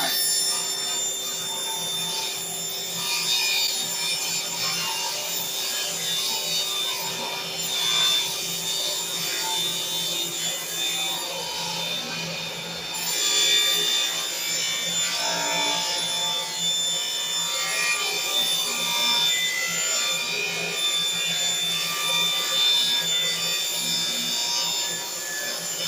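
A table saw rips through a 4x8 sheet of plywood with a steady, continuous whine and rasp of blade on wood, running at an even level for the whole stretch with no talk over it.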